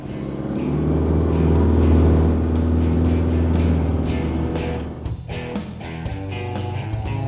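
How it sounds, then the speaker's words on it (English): An Isuzu MU-X LS-T four-wheel drive in low range ploughs through very soft beach sand, its engine droning loudly and steadily, rising and then easing as it bogs down slightly. "This is a really soft beach, so it gets bogged down a little bit"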